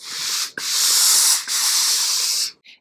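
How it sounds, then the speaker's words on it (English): An iron hisses out steam over a garment during dressmaking pressing, three long close bursts separated by short breaks, with a faint fourth puff at the end. "And then I can use the steam without damaging my hand."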